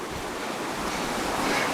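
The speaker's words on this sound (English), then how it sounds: "We've got the river next to us right there to the left." A river flows beside a forest trail near a waterfall, giving a steady, even rush of water that stays close and loud throughout with no voices.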